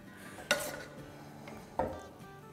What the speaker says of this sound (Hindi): ये जो हमने वेजिटेबल्स सॉटे करके रखी है ना, ये डालेंगे इस वक्त